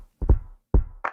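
Lo-fi drum groove with drive added for extra grit: a few punchy, slightly crunchy hits, a low thud pair, a pause, another thud and a brighter snare-like snap, dry and close.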